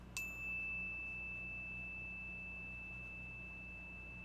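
A bell struck once for a sound cleanse, giving a sharp clear ding that settles into a long, steady, ringing tone which sustains for several seconds over a low background hum.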